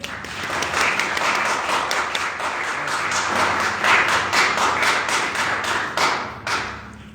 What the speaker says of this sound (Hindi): एक बार पाक रूह के लिए जोर से स्वागत करेंगे ताली बजा के